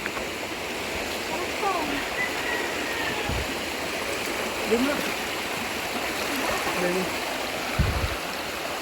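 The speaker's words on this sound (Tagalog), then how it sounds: "Itong tubig na ito galing yung doon sa bundok." Water piped down from a mountain through a hose line rushes steadily and continuously, close by, with people talking over it.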